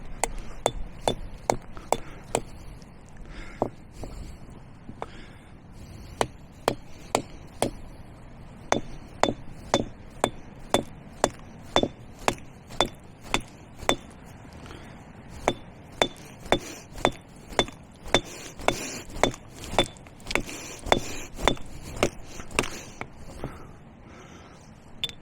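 A hammer strikes repeatedly at Lyme Regis, Dorset, UK. Sharp, ringing metallic blows come at a fairly regular pace for about twenty-five seconds, with brief pauses between runs.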